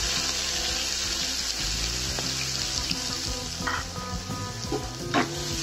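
Loud, steady sizzling of two finely chopped onions frying in hot oil for mushroom masala, with occasional stirring scrapes and clinks close by.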